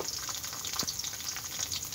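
Browned onions fry in a pan with potatoes added, giving a soft, steady sizzle with a single brief knock. The sound is fairly faint and close, and no voices are present.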